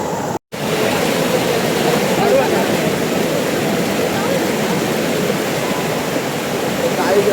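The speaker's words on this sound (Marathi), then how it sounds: "आता इथं वरती आपला काल वॉटरफॉल आहे तिकडे जाऊ" Kalu waterfall in Maharashtra roaring continuously, a loud, dense rush of falling water close by, with a brief cut near the start.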